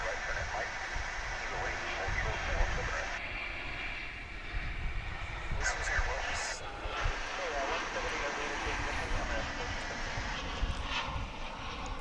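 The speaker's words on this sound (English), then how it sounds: "There's an American flight coming in from San Jose, California there." An American airliner arriving from San Jose, California at DFW International Airport gives a steady, broad jet roar that builds and holds throughout, with people talking over it.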